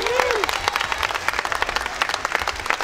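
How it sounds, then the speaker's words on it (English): An audience at a film's world premiere Q&A breaks into brisk, lively clapping that carries on for a few seconds, fairly close and loud. "So a big round of applause for Stephen and Kimberly Van Deventer."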